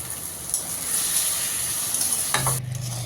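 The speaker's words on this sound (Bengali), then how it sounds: "তো আমি পেঁয়াজ আর কাঁচামরিচ দিয়ে এখন তেল দিয়ে দিচ্ছি।" Onions and green chillies hit hot frying oil for a fish curry, giving a loud, close, steady sizzle that fades out near the end as a low hum takes over.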